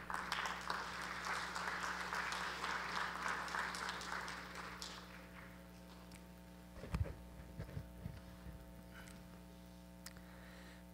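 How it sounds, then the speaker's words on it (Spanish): Audience applause at a university anniversary ceremony in Puno, greeting the rector of the Universidad Nacional del Altiplano. It sounds moderately loud for about five seconds, then fades into a quiet hall with steady hum and a few scattered knocks. "Lo recibimos con un fuerte voto de aplausos."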